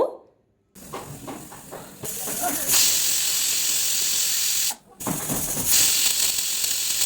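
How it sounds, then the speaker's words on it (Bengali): A pressure cooker of cabbage on a gas stove releases steam in two loud, sustained hissing whistles, the first starting abruptly and a second following a brief pause. "এবার ঢাকনা ভালোভাবে আটকে জাস্ট 2টো সিটি দিয়ে দেব।"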